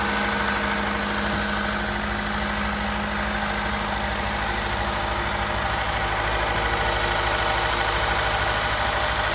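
A VAZ 2107 car engine, back together after repair, idles loud and close with a steady, even rumble and vibration that holds unchanged throughout, with no voices over it.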